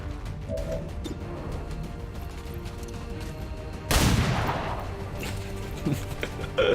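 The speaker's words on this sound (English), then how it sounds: "She should be able to get a pistol shot from here." A pistol fires in the turn-based game XCOM 2: War of the Chosen with one sharp, loud crack that rings out over faint game ambience, followed by a smaller impact.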